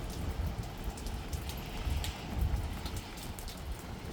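Steady rain falls outdoors as a dense, soft hiss with scattered drop impacts and a low rumble underneath, continuous throughout.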